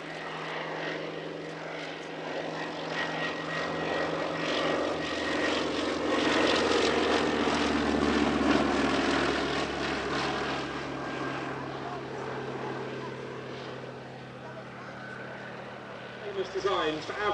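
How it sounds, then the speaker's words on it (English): Two vintage propeller aircraft, a Westland Lysander 3A and an Avro Anson C-19, fly a paired routine at a family airshow, their piston engines droning steadily, swelling louder as they pass, then fading into distance. "There was an interesting 2-ship routine at the Family Airshow by 2 more of the Shuttleworth Collection's aircraft, their Lysander 3A and Anson C-19."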